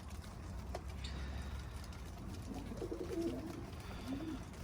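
Soft, low pigeon coos in a short rolling series over a steady background rumble, fairly close but quiet, indoors in an office.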